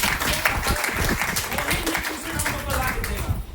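An audience at a DXN branch meeting in Patna claps, with a rough, continuous spatter of hands alongside talking and a heavy low rumble in the room, fading slightly at the end.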